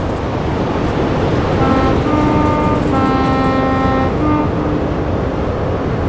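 In the Train Sim World video game, a train passes loudly amid a constant heavy rumble, with a sustained tonal horn-like whine rising in the middle and fading, and no voices.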